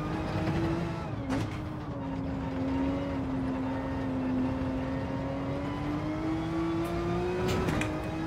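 A Porsche 911 RSR race car in Gran Turismo 7 at Catalunya accelerates out of a corner, its engine note rising and holding steady in a continuous, moderately loud drone with a brief dip near the start; no talking.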